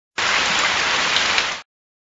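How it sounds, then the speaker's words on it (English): Steady hiss of rainfall, a dense even wash of drops lasting about a second and a half, cutting in and out abruptly with no voices. "Rain."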